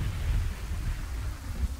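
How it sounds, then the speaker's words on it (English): Rain falls in the city-building video game Kingdoms and Castles: a steady, dense hiss over a low, rumbling wash, continuous and fairly loud with no pauses. "Oh, it's raining."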